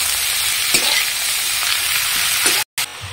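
Chopped green chilli and shredded bottle gourd fry loudly in hot oil in a pan, a dense, close sizzle with a few stirring scrapes and a brief dropout near the end, no talking.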